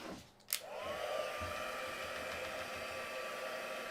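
A dryer drying paint on a vintage Christmas craft piece switches on with a click, then blows a steady, close, loud whooshing hum with a faint whine until the end.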